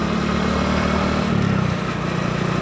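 A motorcycle engine runs steadily while being ridden along a scenic dam road, a continuous low droning hum that stays loud and close throughout, with no talking.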